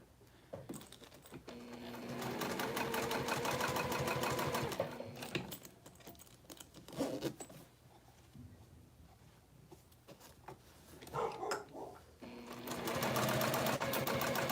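A sewing machine stitching a crossbody bag runs in several bursts of rapid, close whirring, separated by quieter gaps with soft handling clicks, ending in another strong stitching run.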